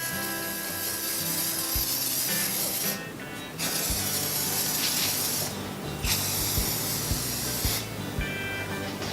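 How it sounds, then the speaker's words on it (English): Clear coat sprays onto painted wood in long continuous hissing bursts, broken by three short pauses between passes, close and loud. "I'm just going to do this clear coat here just to make sure"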